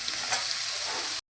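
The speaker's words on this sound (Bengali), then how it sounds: "সবজিগুলোকে ভেজে নেবো একটু।" Vegetables for a vegetarian Malabar spinach dish sizzle steadily in a pan, a close, bright hiss with a faint scrape, which cuts off abruptly after about a second.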